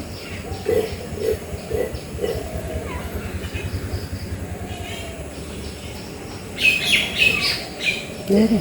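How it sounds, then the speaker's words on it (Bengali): Small birds chirp and tweet in short bursts around a family home at dawn, with a louder cluster of calls near the end over a steady low rumble. "এই যে পাখি।"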